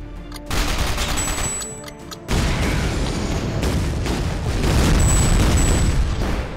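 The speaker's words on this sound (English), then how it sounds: "I hope the sound of explosions and more explosions and the occasional angry bird noise" Artillery shells burst in the Shellshock Live video game, giving a dense, loud barrage of booming blasts and rapid gunfire-like crackles that continue with only a brief dip.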